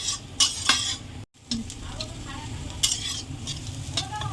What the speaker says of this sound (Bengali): দেখুন আমার মুগের ডালটা ভাজা হয়ে গেছে বন্ধুরা কত সুন্দর করে ভেজে নিয়েছি দেখুন